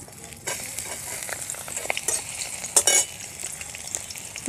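Chopped onion sizzles steadily in hot mustard oil in a pan, a close crackling hiss with occasional stirring scrapes and brief louder spatters.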